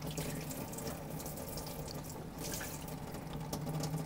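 Water rinsing through an alkaline water ionizer set to its strongest alkaline setting, a steady rushing flow like a running tap, close and continuous with no talk.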